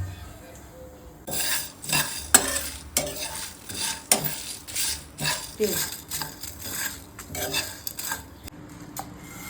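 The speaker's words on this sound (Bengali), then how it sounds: "তো এগুলো একটু রোস্ট করে নেবো, মানে ভেজে নেবো প্রায় 3-4 মিনিট।" Cumin, salt and spices dry-roasting in a pan with a spoon stirring, scraping and clinking against the metal in a steady, uneven rhythm, close and fairly loud, with a soft sizzle underneath; the first second is quiet.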